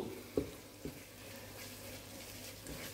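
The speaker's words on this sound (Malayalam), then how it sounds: "ചേർത്തിട്ടൊരു രണ്ട് മിനിറ്റ് കൂടി ഒന്ന് വഴറ്റുക മീഡിയം ഫ്ലെയിമിലാണ് ഇപ്പോൾ ഞാൻ നിൽക്കുന്നത്" Ground Kashmiri chilli paste sautéing over a medium flame for Ambur chicken biryani, a quiet, steady sizzle broken by a couple of soft knocks from stirring, with no voices.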